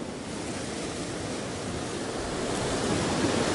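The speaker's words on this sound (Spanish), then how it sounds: "Con este oleaje, ¿qué locura es esta?" A strong sea swell crashing against a cliff makes a steady, dense roar of surf that swells slightly louder toward the end, with a little wind buffeting and no talking.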